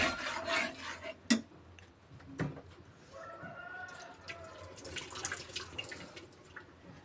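A spoon stirs a thickened sardine curry in a pan, making intermittent scraping and rubbing strokes with a few sharp clinks against the pan, fairly quiet and close.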